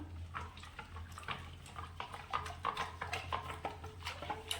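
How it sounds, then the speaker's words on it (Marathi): Cold water from an earthen pot splashing and trickling into buttermilk being made into chilled matha, a soft, uneven pouring sound with small splashes over a steady low hum. "डेऱ्यातील थंड पाणी ओतले."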